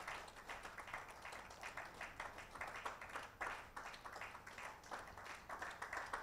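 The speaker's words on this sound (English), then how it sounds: "Let's keep clapping for them until they're settled." Large audience applauding at Myles Leadership University's honorary doctorate conferment ceremony in Lagos, Nigeria: dense, sustained clapping from many hands, steady and fairly distant-sounding throughout, with slight swells.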